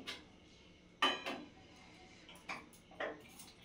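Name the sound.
pots and cups clinking while making tea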